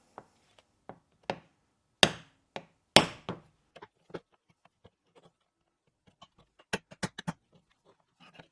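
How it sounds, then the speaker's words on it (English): A small tool carefully taps a press-fit cover off a failed electronic parking brake motor from a Renault Scenic 3, giving a series of sharp, irregular close knocks of varying strength with brief pauses between. "we can just very carefully and evenly tap this off"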